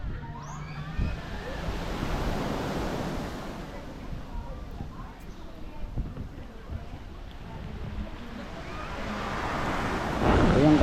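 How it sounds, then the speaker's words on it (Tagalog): Sea surf and wind at Puerto Galera make a steady broad wash, with wind buffeting the microphone and the waves swelling louder toward the end, all close and continuous. "Ito yung kalagayan sa dagat ng Kasisari, oh."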